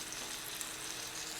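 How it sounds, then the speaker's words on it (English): Chicken thighs frying skin side down in hot oil: a steady, close, broadband sizzle with fine crackling throughout, no talking. "you're going to add your chicken thighs skin side down"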